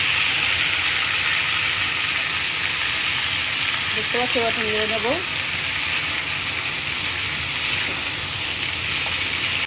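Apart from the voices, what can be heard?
potatoes and green plantain frying in a wok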